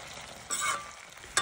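Tomatoes cooking in a pan for chayote curry are stirred, two short bursts of sizzling scrape over a low steady frying hiss, close up.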